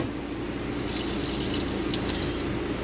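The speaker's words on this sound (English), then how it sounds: "look at the water pressure you get just from the water pump and the tank" Running water gushes steadily from a faucet in a 2018 Thor Gemini 23TR mini Class C motorhome, fed by the onboard water pump and tank; a continuous, close, fairly loud hiss with no talking.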